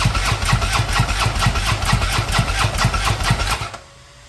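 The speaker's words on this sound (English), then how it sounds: "turn the switch on, crank it up till it dies." A 2013 Harley-Davidson motorcycle engine cranks and runs with a steady pulsing chug, loud and close, then cuts out abruptly near the end, leaving quiet.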